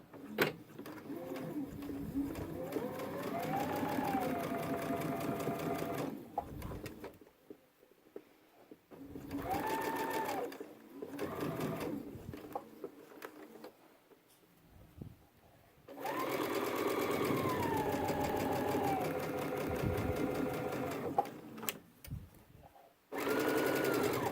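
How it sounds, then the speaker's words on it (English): Sewing machine stitching a backpack pocket inside the seam allowance, running in long steady rattling bursts separated by short pauses, loud and close. "we don't want any of this stitching that we're doing now to show up when we're done"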